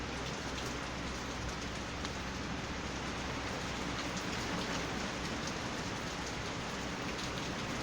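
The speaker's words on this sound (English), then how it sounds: "Okay, y'all hear the rain?" Steady, dense rainfall hisses evenly throughout, a constant close wash of drops on surfaces with no pauses and no other sounds.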